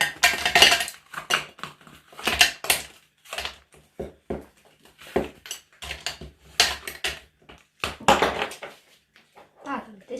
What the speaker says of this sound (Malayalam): ഈ ട്രേയിലെ ഐസ് മുഴുവൻ നമ്മൾ ഇട്ട് കൊടുക്കണം.